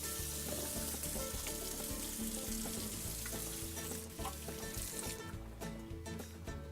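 Food goes onto a hot grill and sizzles steadily, a close crackling hiss with some tonal clatter and handling noise over it, fairly constant, easing slightly toward the end.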